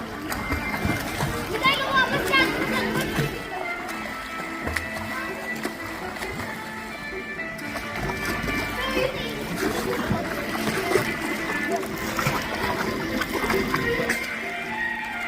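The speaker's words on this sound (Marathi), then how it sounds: "किती सुंदर स्विमिंग पूल आहे" Children swim in a swimming pool, splashing continuously while kids shout and chatter nearby, and an adult voice talks over the busy, echoing poolside noise.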